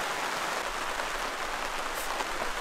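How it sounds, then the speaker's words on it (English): A heavy rain squall pours down outside during an Alaskan summer, a dense, even hiss of rainfall holding steady throughout with no voices. "It has started raining pretty bad out"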